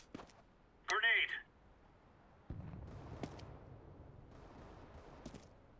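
A grenade detonates in Counter-Strike on the Mirage map: a sudden low, rumbling blast that lingers as a murky roar, heard faintly amid brief game noises and a short chirpy sound.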